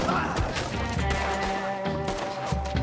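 Gunfire in Red Dead Redemption 2 rattles in a dense burst of shots layered over music and background game noise, continuous and fairly loud throughout.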